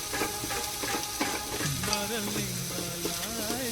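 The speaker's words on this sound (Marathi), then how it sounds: "तर तेल आता गरम होत आहे आणि टाकू मग त्यावर कांदा आणि त्यांना गोल्डन ब्राऊन होईपर्यंत फ्राय करू" Onions frying in hot oil in a pan, a close steady sizzle with scraping stir strokes throughout and no speech.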